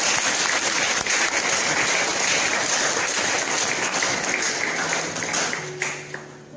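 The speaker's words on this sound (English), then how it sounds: "Please give her a big round of applause." An audience at a college award ceremony applauds as a presenter is welcomed to the dais, a dense, steady wash of clapping filling the hall before thinning out near the end.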